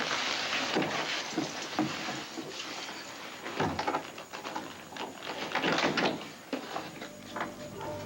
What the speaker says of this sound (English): Open the door and let's go in.